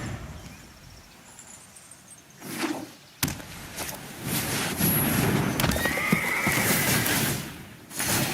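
Horse whinnies and clip-clopping hooves from the Magic Arena card game, loud neighing bursts over a steady rumble of hoofbeats with a sharp thump partway through.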